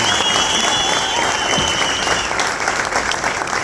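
Sustained audience applause at an Ethiopian film premiere, a thick, even roar of many hands clapping close by, with a faint whistle running through it and no talking.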